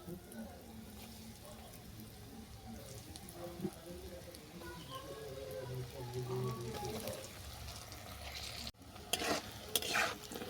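Battered baby corn pieces fry in hot oil in a home kitchen, giving a soft sizzle and bubbling with stirring scrapes. Louder clattering knocks come near the end, and a voice is faintly present.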